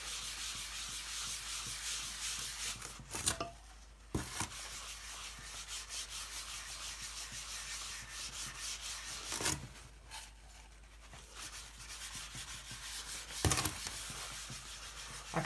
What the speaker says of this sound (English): And just rub it into the wood.